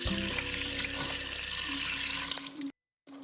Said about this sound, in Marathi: साध्या पाण्याने आपण हे धुवून घेऊ